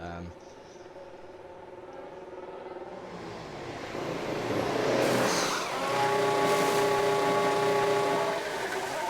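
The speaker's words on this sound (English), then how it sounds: "in comes De Vries for his pit stop" F1 car engine revving and idling during a pit stop in an AlphaTauri career mode of an F1 racing video game, a steady mechanical drone that swells louder midway with commentary-style talk over it.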